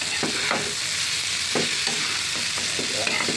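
Ginger-garlic paste stirred into a frying mixture for a Bangladeshi hilsa fish and bean seed curry, a steady sizzle with repeated spoon scrapes against the pan, close and alone.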